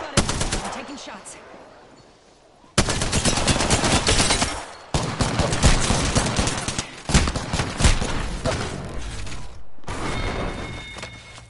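Dense gunfire from a PS4 shooter video game bursts in long rapid volleys of loud close shots, separated by brief quieter gaps, with faint game voices mixed beneath.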